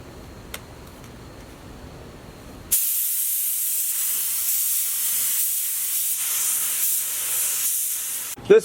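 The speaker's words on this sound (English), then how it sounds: "I'm spraying a few coats of clear." A spray gun lays down coats of clear over a silver base coat on a cleaned, primed transmission, a steady close hiss that starts abruptly after a quieter stretch and runs continuously before cutting off at the end.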